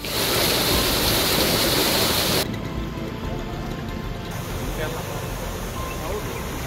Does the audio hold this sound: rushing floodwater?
yes